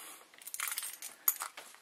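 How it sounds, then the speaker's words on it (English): A bunch of keys, Ford car keys among them, jangles and clinks briefly and fairly near, with a couple of sharper metallic chinks. "Then I have my car keys, Ford car."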